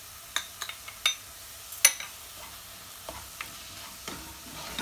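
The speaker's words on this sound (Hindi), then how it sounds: "कीमा हल्का सा भुन जाएगा। इसके बाद जो हमने ये डाइस टोमेटो है ये हम इसमें डाल देंगे।" Minced meat with diced tomatoes sautéing in a pan for cabbage keema, faint sizzle broken by scattered soft clicks and scrapes of stirring.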